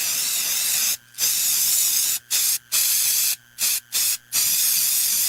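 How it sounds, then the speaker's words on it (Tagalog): Baygon Shield Defense insecticide aerosol sprays in loud, close, steady hissing bursts, several sprays separated by short pauses, with no voices over it. "Humana ko i-spray direkta sa lamok, langaw ug ukok."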